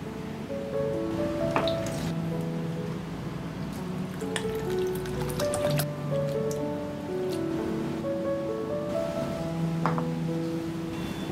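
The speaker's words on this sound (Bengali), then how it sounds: "এবার জল পাল্টে 4 থেকে 5 বার চিড়েটাকে ভালো করে ধুয়ে পরিষ্কার করে নেব।" Thin flattened rice (chira) is washed in water in a kitchen, with steady sloshing, splashing and dripping that runs without pause at close range.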